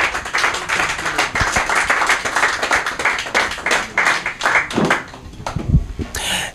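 A studio audience claps steadily for a guest coming up onto the stage, dense and close applause that carries on throughout and thins slightly toward the end.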